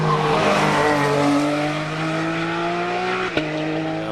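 A Porsche 997 Cup race car on a mountain hill climb at Mont-Dore, its engine wailing loud and close as it pulls through the gears, with a gear change and a short blip near the end.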